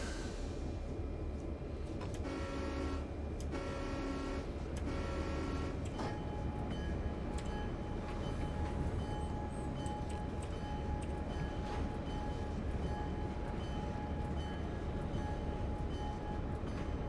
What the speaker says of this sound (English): And we're going to put the train in reverse.